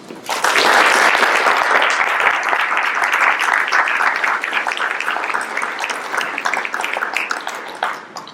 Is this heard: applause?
yes